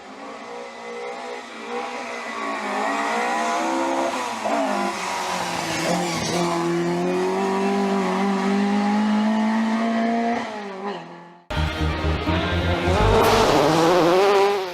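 Historic rally cars race through a corner on a Somerset stage: loud, continuous engine roar rising and falling in pitch with revving and tyre squeal, fading briefly before a second car blasts through close by.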